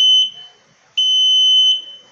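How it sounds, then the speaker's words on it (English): An Arduino Uno-controlled buzzer gives three loud, steady electronic beeps, the second held longest, sounding alone and close with no talk. "our buzzer is on"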